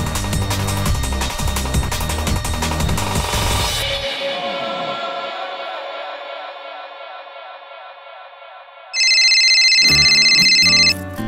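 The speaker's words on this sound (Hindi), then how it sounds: "मिचिको का फोन।" A telephone ringtone chimes loudly in two bright bursts, rising above background music in a Hindi superhero short film.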